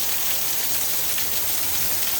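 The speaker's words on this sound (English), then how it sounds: "Here comes the rain." Heavy rain from a spring storm in southern Illinois pours down as a loud, dense, unbroken hiss, close and constant throughout.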